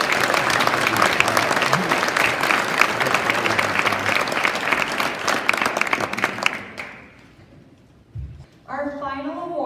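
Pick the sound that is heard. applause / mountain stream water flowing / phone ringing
applause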